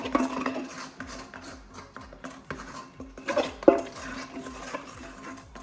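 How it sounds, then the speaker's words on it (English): A bread scraper scraping dough out of a mixing bowl before kneading, with repeated close scraping strokes and light clinks against the bowl, moderately quiet. "So we scrape out your bowl, like so"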